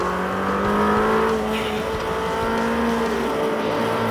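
A Lamborghini Temerario held at high revs around 7,000 RPM while cornering in second gear, a sustained loud engine drone heard from inside with a steady rising pitch and no speech.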